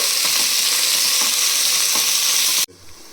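Beans and carrots stir-fry for gobi fried rice, a loud, steady sizzle with faint stirring scrapes that cuts off abruptly near the end, leaving near silence.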